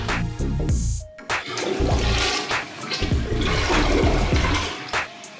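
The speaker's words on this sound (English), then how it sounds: "Flush." A newly installed toilet flushes loudly and close by, with a strong rush of water that swirls and gurgles continuously as the bowl drains and refills.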